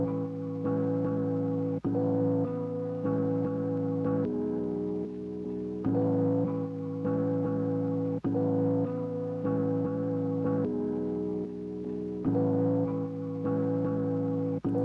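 A chopped and processed lo-fi sample of warm, reverberant harmonic chords loops in short repeating segments, with abrupt cuts between the chops and a steady, fairly loud level.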